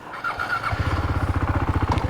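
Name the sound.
motorcycle riding off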